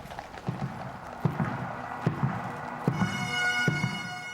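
Hooves of Household Cavalry horses in a sovereign's escort at a state funeral on a rural road, a steady rhythmic clip-clop of several horses passing at a walking pace, with crowd ambience and a faint high tone in the background.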